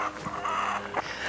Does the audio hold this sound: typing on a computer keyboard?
no